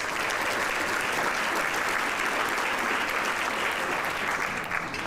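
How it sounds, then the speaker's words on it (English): Gala audience applauding, a dense, even sheet of clapping from a large room that holds steady and fills the whole stretch without voices on top. "Applause for them, please."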